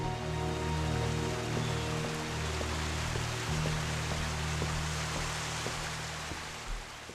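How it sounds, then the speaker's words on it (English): Steady broadband rush of flowing river water in the video game The Alien Cube, a continuous wash with faint tonal hum beneath, constant in level with no voices. "And now I can hear the river."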